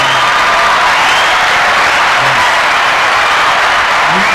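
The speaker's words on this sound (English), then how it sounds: "Let's just give a round of applause." A studio audience gives a loud, sustained round of applause for an interview guest, dense clapping with faint cheering, continuous and close throughout.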